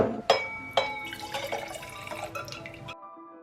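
Wine poured into a glass, starting with a couple of sharp clinks and then a bright, gurgling trickle that runs for a few seconds before stopping abruptly, close and alone.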